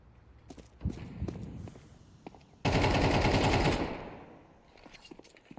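A sudden loud burst of automatic gunfire sprays through smoke in a Counter-Strike 2 match, lasting about a second before fading out. Lighter footsteps and small clicks come before it.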